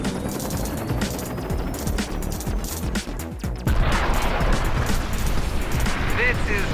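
A boss ship is shot down in the vertical shoot-'em-up Sky Force Reloaded: steady rapid gunfire and crackling blasts that jump into a louder burst of explosions partway through, with someone talking over the game sounds.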